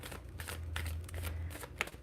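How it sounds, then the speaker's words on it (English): A deck of tarot cards is shuffled in a steady riffling rush of soft paper flutters with a brief sharper snap near the end, close up and alone, no talking. "Let's shuffle up these cards."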